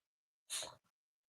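A single sharp sneeze bursts out close and loud, followed by a brief softer breath or sniff.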